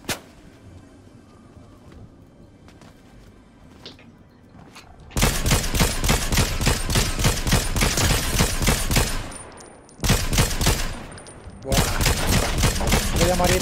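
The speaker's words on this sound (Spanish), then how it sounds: "Otros dos disparándome." Fortnite gunfire from two enemies, loud dense volleys of rapid shots erupting after a quiet stretch, pausing briefly, then resuming close and relentless.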